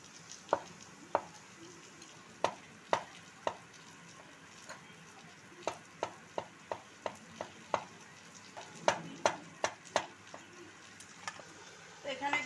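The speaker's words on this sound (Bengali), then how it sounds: "ফুলকপিটা যে সিদ্ধ করে রেখেছিলাম সেটা এভাবে একটু ছুরি দিয়ে ছোট ছোট টুকরো করে নেব" A knife cutting boiled cauliflower and potato into small pieces on a board, a series of soft, fairly quiet chopping taps at an uneven rhythm in an otherwise quiet kitchen.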